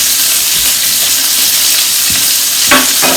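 Meat frying in a hot pan for Vietnamese noodles, a steady close sizzle with a few brief stirring scrapes toward the end.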